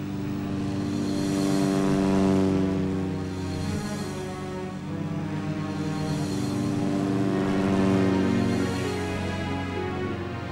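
Propeller aircraft take off at night to attack the Bismarck, a droning engine roar that swells and fades in two broad waves over about ten seconds, loud and steady with no voices.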